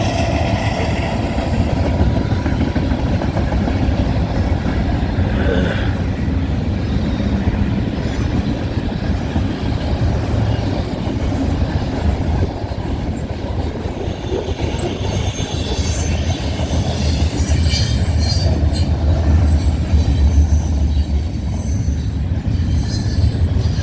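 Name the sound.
freight train led by locomotive 3102 passing at night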